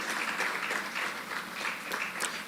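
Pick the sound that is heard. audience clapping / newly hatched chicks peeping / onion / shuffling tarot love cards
audience clapping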